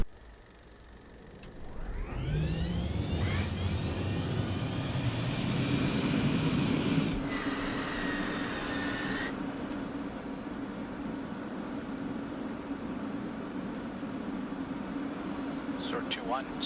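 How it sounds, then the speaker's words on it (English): An F-16 jet engine spooling up in the DCS World flight simulator: a rising whine climbs over several seconds into a steady loud roar with a high turbine tone, and radio-style talk runs over it. "Sword 2-1, you are cleared to start engine."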